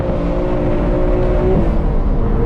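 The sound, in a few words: BMW M3 F80 engine revving while drifting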